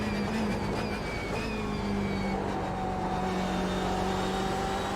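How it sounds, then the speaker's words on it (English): A race car engine revs hard on the Monza circuit, a loud, steady onboard drone whose pitch climbs and shifts with the gears. "Revving it out because we're pushing a bit."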